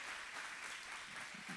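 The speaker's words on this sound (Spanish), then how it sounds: "Ay, bienvenidos, un aplauso." A church congregation at Iglesia Vida Chihuahua applauding first-time visitors, a short burst of many hands clapping together, soft and somewhat distant.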